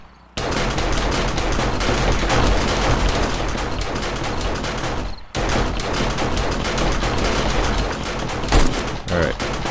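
Automatic turrets in the 7 Days to Die video game fire at zombies in a loud, continuous stream of rapid gunshots. There is a brief pause about halfway through, and then the dense firing resumes.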